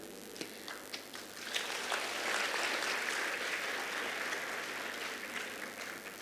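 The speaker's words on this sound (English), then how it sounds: "I will ask us to give 3 hearty claps to Elizabeth before I introduce her." An audience at a women's health and wellness event bursts into applause, a soft, fairly distant patter of many hands that swells and then holds steady.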